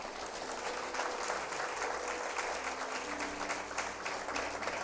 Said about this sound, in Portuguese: Dê um aplauso ao Senhor aí.